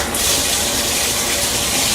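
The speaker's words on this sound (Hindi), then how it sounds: "पूजा ने जाकर देखा तो पानी वापस आ गया था। उसने टैप बंद किया" Water gushing steadily from a bathroom tap, a loud, continuous rushing flow with no break and no voices.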